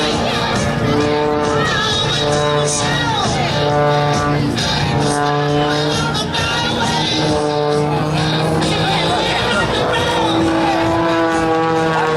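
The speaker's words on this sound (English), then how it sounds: "You can hear that engine working hard." A loud stunt airplane's propeller engine drones steadily throughout at an air show, its pitch rising and falling as it strains through maneuvers, with a voice talking over it.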